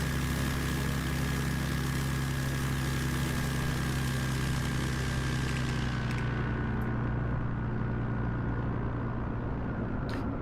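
A small plane's propeller engine drones steadily in a flight-simulator short-takeoff competition, a constant loud hum with a tonal whine that eases slightly partway through, alone without talk.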